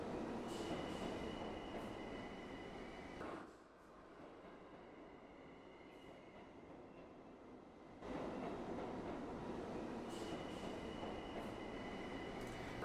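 A passing train rumbles and rattles with bright metallic squeal tones, dropping to a quieter rolling stretch midway before the full clatter and screech return.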